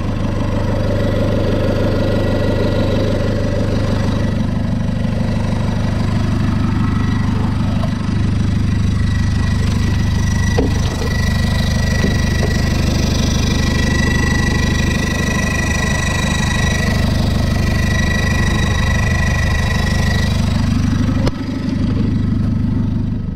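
A car engine, a Ulysse with a newly fitted turbo, runs at a steady idle, loud and close-up, a continuous low rumble with a slight rise around the middle and a faint knock.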